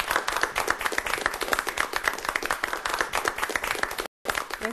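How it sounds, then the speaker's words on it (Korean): Lecture-hall audience clapping for a professor after a talk on military leadership, dense steady applause close by that cuts off briefly near the end before resuming. "교수님께 박수 부탁드립니다."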